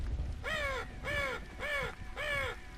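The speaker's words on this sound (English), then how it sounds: "Go away, bird." A crow in the horror game The Forgotten Ones caws four times in a steady, evenly spaced series. Each call is harsh and fairly loud, set over a low ambient hum, with no talking.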